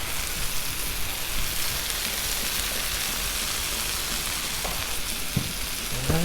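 Chicken wings fry in oil on a Blackstone griddle, giving a dense, continuous close-up sizzle like steady rain, with a few light pops and taps near the end and no talking.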